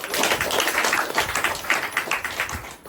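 A live audience claps loudly and steadily during a talk on meditation and mental calm, a dense continuous patter of many hands that holds its level for the whole stretch.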